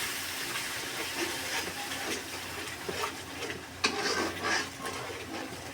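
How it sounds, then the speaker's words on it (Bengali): Stirring a pan of simmering food after water is added to the frying mixture, with steady sizzling hiss and soft scraping clinks of a utensil, close and continuous, a few sharper scrapes near the end. "একটু নেড়ে চেড়ে দিচ্ছি।"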